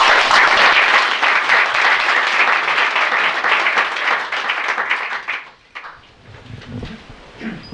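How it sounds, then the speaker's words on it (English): Loud audience applause greets presenters invited onto a stage at a Propellerhead Software event, a dense steady wash of clapping that fades after about five seconds into scattered claps and a few voices. "Give them a great applause"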